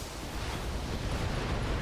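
Continuous heavy rumbling blasts of mech weapons firing in the video game BattleTech (2018), a dense low roar with no breaks, loud and steady throughout.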